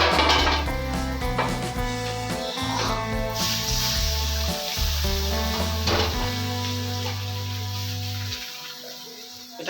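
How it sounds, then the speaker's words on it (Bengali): Water poured into a hot pan hisses and sizzles, mixed with clinks of pots and utensils and a steady background hum. "এখানে আমি এখন জল দিচ্ছি একটু জল দিয়ে এটা ফুলিয়ে নেব"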